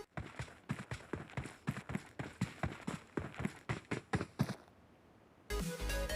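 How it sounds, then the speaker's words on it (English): Running footsteps of an enemy approach from the left in PUBG Mobile, a quick, even series of treads that stops before a louder burst of game sound. "Now this is the sound of footsteps of an enemy coming from the left."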